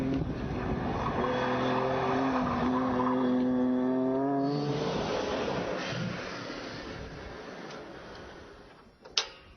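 Turbocharged engine of a Nissan Skyline GT-R R33 revving up through rising harmonic sweeps, then settling into a rougher broadband drone before a sharp clunk near the end; loud and close, no talking.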